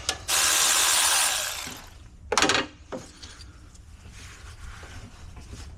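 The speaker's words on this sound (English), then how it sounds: "We got our 10 millimeter to remove the AC hoses." A 10 mm ratchet loosens the AC hose bolts on a Ford Bronco. A loud, sustained run of ratcheting clicks is followed by two short, sharp bursts, then quieter shop background.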